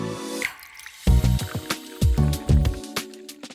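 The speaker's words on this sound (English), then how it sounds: "So start off with some fish sauce" Fish sauce pours and drips into a bowl for a Vietnamese nuoc cham dressing, with several separate close glugs and splashes in quick bursts and short pauses between them.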